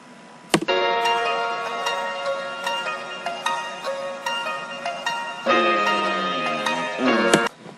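A melodic music sample pitched up a full octave in FL Studio, a bright, busy loop with plucked notes and a shift in texture near the end, played alone at moderate volume.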